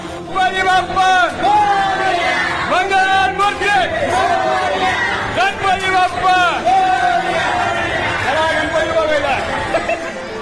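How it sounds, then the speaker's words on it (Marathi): Dense crowd packed inside a Pune metro train during the Ganpati festival, a loud continuous babble of many voices with shouts and bits of laughter close around, plus chatter in the foreground. "मेट्रोमध्ये प्रचंड तुफान गर्दी आहे"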